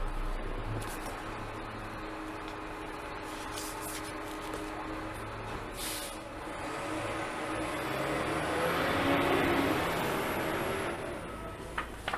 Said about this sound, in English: The trash truck is right outside doing its sound.